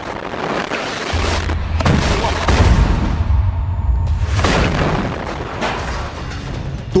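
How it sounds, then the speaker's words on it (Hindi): Heavy explosions from war footage in Gaza boom out in a few deep, rumbling blasts, with sharper cracks and debris noise between them, loud and close with no talking. "बहुत से हमले हैं, बहुत से धमाके हैं।"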